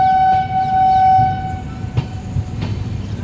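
Train 15655 from Guwahati to Katra rolls into the Jammu Tawi station yard: a sustained horn tone fades over the steady rumble of the cars and repeated clickety-clack of wheels over rail joints, with no talking.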